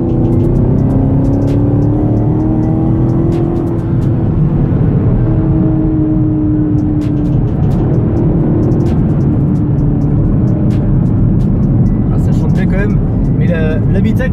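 A 2017 Chevrolet Camaro SS with its 450 hp engine, switched into sport mode, drones steadily from inside the cabin with a continuous low rumble and slight rises in pitch, heard under someone talking throughout.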